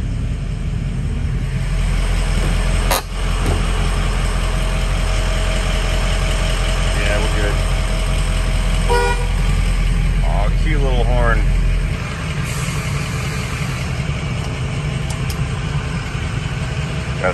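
A Ford F350 pickup with the 6.0 diesel engine idles and runs steadily while backing out of a stall, a constant low rumble throughout with a brief thump and some faint squeaks over it, no speech.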